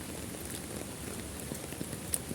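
Steady rain falls in a constant soft hiss, with scattered droplet patter close by and no talking.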